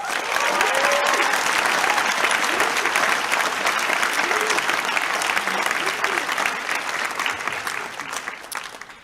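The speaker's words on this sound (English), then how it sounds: "Last round of applause." Graduates, parents and guests applaud at a university graduation ceremony, sustained loud clapping across a large hall with faint cheering and voices beneath, easing off only at the very end.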